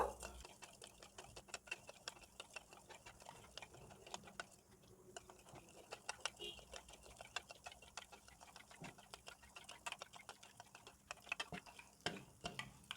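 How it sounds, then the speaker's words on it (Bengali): A spoon gently beats two eggs for an egg pudding, making a rapid, steady run of light clicks and taps against the bowl, close and quiet, with no talking. "আস্তে আস্তে ডিমটা ফেটিয়ে নেব"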